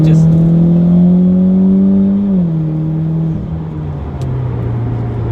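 A 400 awhp Mitsubishi Evo X pulls hard in third gear, its engine droning loud and close from inside the car with a rising pitch that briefly dips at a shift, then settles into a steady cabin roar.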